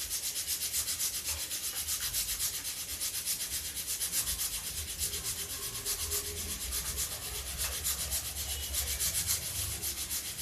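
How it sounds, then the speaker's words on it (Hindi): Steady scraping and rubbing as sweet corn raita with ground fennel powder is stirred, a continuous close, loud, grainy texture with no pauses and no voices. "और अब हम इसको मिक्स कर देते हैं।"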